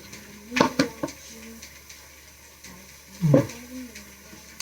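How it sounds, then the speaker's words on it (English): Leaves bitten off while eating, heard as a few crisp, close crunches: a quick pair near the start and another bite a few seconds later, with quiet room tone between. "I guess you can hear me biting off the leaves."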